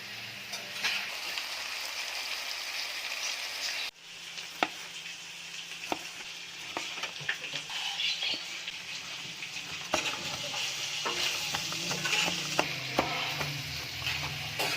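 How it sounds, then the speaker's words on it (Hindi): Chicken fries slowly over low heat on a tawa, a continuous moderate sizzle broken by repeated scrapes and clicks of a spatula stirring the pieces. "अभी चिकन जो है हमारा फ्राई हो रहा है।"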